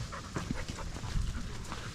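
A search dog pants close by in quick, rhythmic breaths, steady and continuous with soft low scuffs underneath and no voices.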